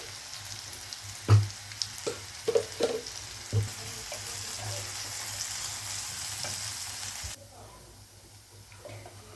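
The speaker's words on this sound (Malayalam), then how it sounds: "നമുക്കിനി ഇളക്കി കൊടുക്കാം." Yam (chena) pieces frying in oil, stirred in a pan: a steady broadband sizzle with several distinct scraping knocks of the spoon early on, then the sizzle drops sharply near the end as the stirring stops.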